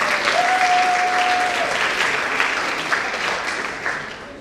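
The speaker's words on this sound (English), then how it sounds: "I think we'll have space if you want to clap." A school honors night audience applauds steadily, a dense sustained wash of clapping from many hands in a hall that slowly tapers, with a brief tone near the start.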